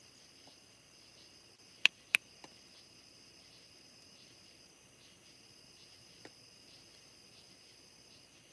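Crickets in a distant wood line keep up a steady, faint, high-pitched pulsing trill through the whole stretch, alone in an otherwise quiet night, broken only by a few sharp, close clicks.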